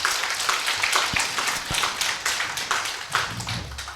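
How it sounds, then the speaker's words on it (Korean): Applause breaks out for a Hanlim Academy professor after his lecture at a humanities forum, a dense steady clatter of many hands clapping close by, filling the whole stretch without letting up. "큰 격려의 박수 한번 부탁을 드립니다"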